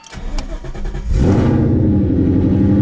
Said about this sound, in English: But we need to start the car